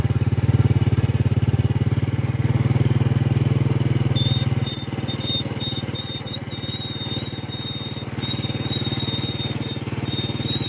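Motorcycle ridden along paths through flooded rice fields, its engine droning steadily and close, a low hum that drops slightly partway through, with a faint high whine over it.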